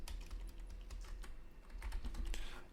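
Fingers tap keys on a computer keyboard, a rapid run of soft close clicks at an uneven pace over a steady low background hum.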